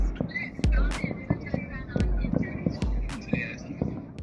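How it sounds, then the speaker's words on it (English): New Year's fireworks pop and crack in a rapid, irregular series of sharp bursts, some near and some farther off, with voices faintly audible between the bangs. "Look at all the fireworks."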